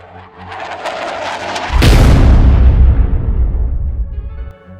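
Artillery shells burst in battle: a heavy explosion lands midway, rumbling loud and near, then a long roar slowly decays away.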